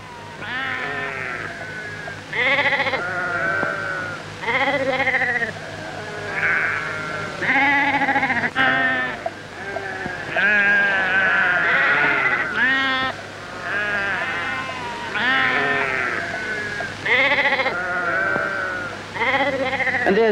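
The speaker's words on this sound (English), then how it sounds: "A flock of sheep in the middle of the main street." A flock of sheep moves along the main street of a small country town, bleating loudly and continuously, many overlapping cries close by with a low steady hum beneath.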